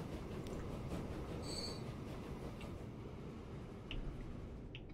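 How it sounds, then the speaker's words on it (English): A train rolls through a UK railway scene in the simulation game Transport Fever 2, a steady low rumble with faint wheel squeals and clatter, heard alone without talk. "Oh, what was that train?"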